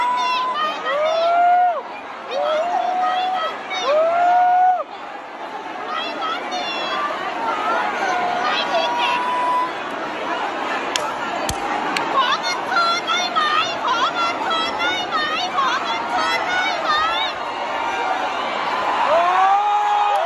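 A large crowd at a live event shouts, jeers and whoops continuously, with loud rising whistles and yells cutting through a dense wash of chattering voices for the whole stretch.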